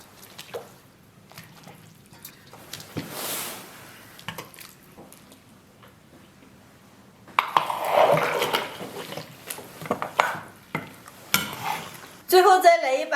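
Chilli paste and soybean paste are stir-fried in a wok for braised beef bones, quiet at first, then louder sizzling with clattering spatula scrapes and knocks against the pot.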